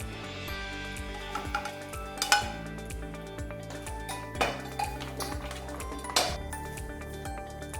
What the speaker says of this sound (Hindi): करी में बॉईल आने के बाद अभी हम ये एग्स और पोटैटोज को ऐड कर देंगे।